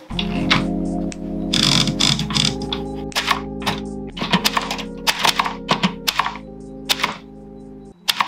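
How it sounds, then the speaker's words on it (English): Typewriter keys clack in uneven bursts, each strike a sharp mechanical tap, with a low steady hum beneath and a brief pause before the final keystrokes. "Let's start typing."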